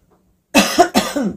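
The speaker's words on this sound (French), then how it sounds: "pour pas que ça vous perturbe trop cette toux intempestive" A short burst of harsh, close coughing, three or four rough hacks in quick succession after a moment of silence.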